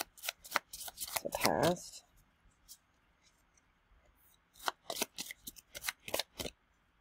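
Tarot cards are shuffled by hand in bursts of riffling and snapping, a dense flurry early on and a run of sharp card clicks later, with someone speaking briefly between them.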